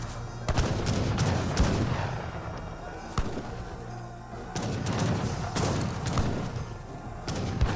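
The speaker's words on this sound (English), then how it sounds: "Now the falconets are firing away" Falconet cannons boom repeatedly in an Age of Empires 3 battle, a string of sharp thuds and blasts at uneven intervals over a dense, continuous clatter of in-game combat.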